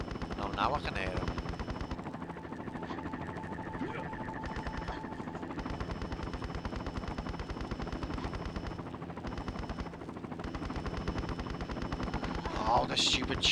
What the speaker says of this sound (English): Oh, the stupid chopper twat.